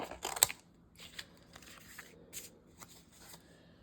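Paper being trimmed down to a workable size for a craft project, heard as a few crisp, close cutting and rustling strokes, loudest near the start, then lighter intermittent snips and paper handling with no talk.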